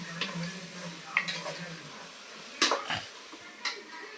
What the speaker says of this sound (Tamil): இப்போ நம்ம இஞ்சி பூண்டு பேஸ்ட்டை வந்து போட்டு வதக்க போகிறோம்.